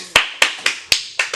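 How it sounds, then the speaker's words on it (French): Six sharp, separate hand claps ring out close and fairly loud on a game show set, spaced at an uneven, slightly slowing rhythm with no voices. "On peut s'applaudir."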